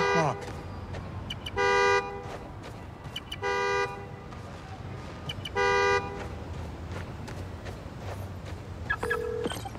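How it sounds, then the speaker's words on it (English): Three loud, evenly spaced car horn toots ring out from a parked car inside a thieves' den in Spider-Man: Miles Morales, over a low game ambience, with a higher tone sounding near the end. "Follow the honk."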